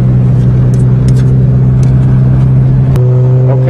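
Toyota GTS car engine revving in gear, a loud steady close-up drone that holds level, then shifts pitch near the end as the revs change, with no talk over it.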